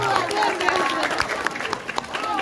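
An audience at an Isra Miraj lecture in a school hall applauds, a dense wash of clapping with a few cheers and voices mixed in, moderately loud throughout.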